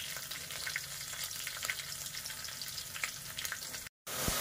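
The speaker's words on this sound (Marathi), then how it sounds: "इथे कांदा चांगला परतलाय, तर त्याच्यामध्ये टोमॅटो आणि मटर टाकून घ्यायचं।" Onion, tomatoes and peas fry in a pan for a mixed vegetable dish, giving a steady close sizzle with faint stirring scrapes and a brief dropout near the end.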